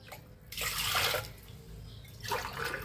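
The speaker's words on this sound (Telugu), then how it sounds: "నీళ్ళు ఈ పెద్ద గ్లాస్తో 2 గ్లాసులు వేసుకోవాలి" Water poured from a large glass into a cooking pot while making vegetable pongal in a kitchen, two close splashing pours separated by a brief pause.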